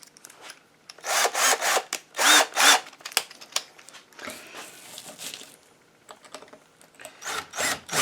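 Several bursts of a power drill boring screw holes in wood with a dull bit, each a loud grinding whine lasting about a second, separated by short pauses and rough rubbing sounds.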